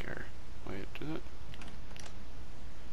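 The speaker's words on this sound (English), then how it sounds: "Anytime it makes that clicking noise, I think it just unlocks right away." Lock mechanism in the Layers of Fear 2 video game gives a few quick dry clicks in a short burst, heard alongside a voice over a steady background hiss.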